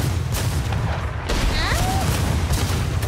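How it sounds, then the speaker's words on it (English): Cannon fire from an enemy ship booms in the Sea of Thieves video game, heavy blasts over a constant rumble of sea and wind, with a whistling streak in between and brief voices in the mix. "they're firing, they're shooting at us."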